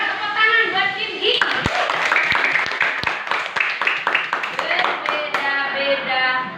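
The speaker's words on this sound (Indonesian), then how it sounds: "Pintar, tepuk tangan buat Cindy." A group of children in an Indonesian classroom clap together for a classmate, a burst of sharp, fairly regular hand claps, with children's voices and a teacher's speech around the start and finish.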